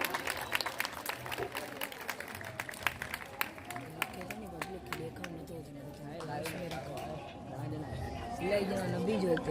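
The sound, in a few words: audience clapping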